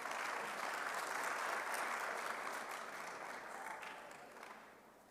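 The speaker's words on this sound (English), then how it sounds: "Another round of applause for Ntate Sithole, please" Audience at a local government conference in Bloemfontein claps steadily for several seconds, a dense, moderately loud applause that gradually tapers off.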